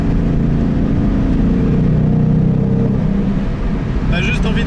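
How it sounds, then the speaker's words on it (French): Ford Mustang Bullitt with a big 5-litre V8, engine note loud and steady throughout with a deep low rumble, a brighter burst near the end. "Ça fait plaisir de décrasser les pistons d'un bon gros V8 5 litres."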